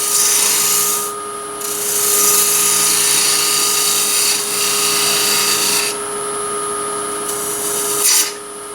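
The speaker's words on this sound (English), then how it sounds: "Again, back to the 3/8 spindle gouge." A 3/8 spindle gouge cuts a small wooden ring box lid spinning on a lathe, giving a loud, continuous high scraping whine that breaks off briefly several times between passes.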